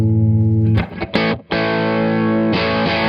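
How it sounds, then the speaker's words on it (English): Overdriven electric guitar through a Universal Audio UAFX preamp pushing a compressor pedal, loud sustained chords with a brief choppy break before ringing out again, no voices. "we get this drive that sort of doesn't sound like your classic distortion pedal"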